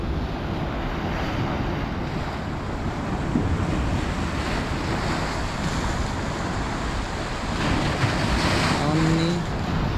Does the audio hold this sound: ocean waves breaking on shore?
yes